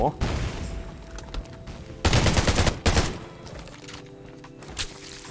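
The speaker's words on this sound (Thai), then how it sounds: "มันยิงปืนระเบิดอย่างนั้นเลยครับ" Rapid bursts of gunfire crackle in clusters, with a loud blast-like surge partway through, sounding like an intense shootout with explosions in the video game Undawn.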